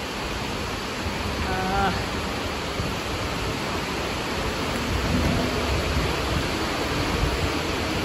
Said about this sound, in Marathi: सगळा पाऊस चालू बाहेर